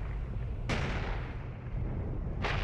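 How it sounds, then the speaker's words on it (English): Tank cannon fire in IL-2 Sturmovik gives two sharp, booming blasts about two seconds apart over a constant low, rumbling battlefield din. "there's a tank shooting right there"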